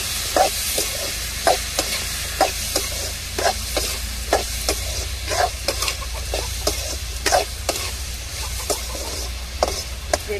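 Onion and tomato sauté with rock salt in a pan, giving a soft, steady sizzle broken by regular scraping stirs of a spatula, close and moderately loud, with no one speaking.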